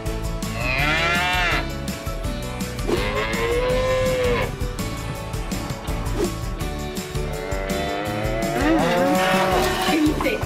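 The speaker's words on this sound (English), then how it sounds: "A cow is an animal that you get milk from." Cow mooing in a children's farm-animal learning setting, several long drawn-out moos rising and falling over a busy musical background, loud and close.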